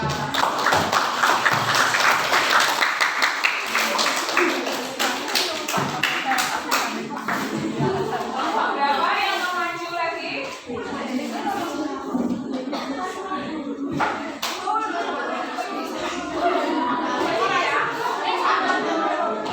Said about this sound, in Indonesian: silakan kembali tepuk tangan untuk kelompok 2